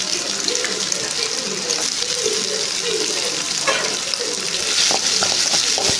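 Chopped large onion sautéing in oil in a pan, a steady soft sizzle with faint stirring scrapes and a few clinks, heard alone at close range.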